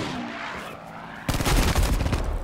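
Rapid sniper rifle fire aimed at tanks in Battlefield V, a burst of loud, close gunshots cracking in quick succession after a quieter stretch of game ambience.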